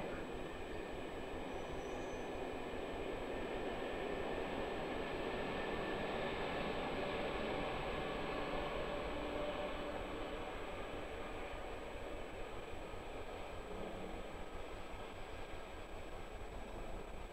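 An IC intercity train rumbles through Brussels-North station, a steady, distant mechanical roar with rail noise throughout and a faint high tone above, with no voices.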